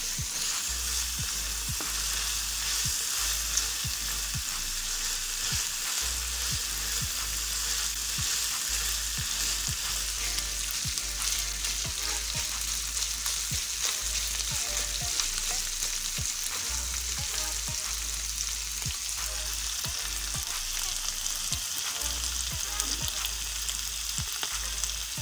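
Minced keema and whole spices, including coriander seeds and garam masala, fry in a pan with a dense, continuous sizzle and occasional stirring scrapes, steady and close throughout with no talking.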